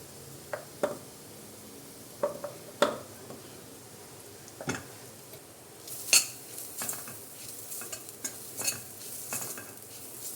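Ground coconut fries gently in ghee over a low flame, a faint soft sizzle under scattered scrapes and clinks of a spoon stirring against the pan, quiet and close.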